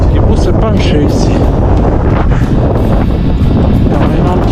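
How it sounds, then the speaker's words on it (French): Loud, constant wind roars and buffets the microphone at a high mountain pass, nearly masking someone speaking French under it. "Il y a vraiment trop de vent."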